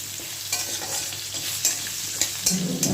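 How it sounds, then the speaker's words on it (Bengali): Potatoes frying in a pan over a high flame, a steady close sizzle with occasional scraping stirs breaking through at intervals. "ব্রাউন কালার অবধি আমি আলুটাকে ভেজে নেব হাই ফ্লেম করে দিলাম আলু"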